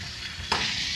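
Spice tempering fries in a pan for Telugu cabbage and radish sambar cooking, a steady broadband sizzle that jumps louder halfway through as more goes into the hot oil, close and with no talk.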